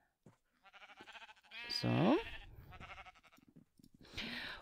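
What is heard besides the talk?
sheep bleating in Minecraft video game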